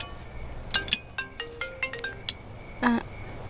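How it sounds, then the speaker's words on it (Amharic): A mobile phone rings with a quick electronic melody of bright, separate tones, moderately loud and close, at a family meal indoors. "ስልኬ ጮኸ፣ ልታቀብለኝ ትችላለህ?"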